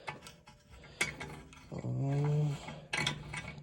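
A thread tap tool is turned in reverse out of a valve cover bolt hole on a 2006-2013 Lexus IS350, making ratcheting metal clicks and a brief squealing scrape, close and moderately loud.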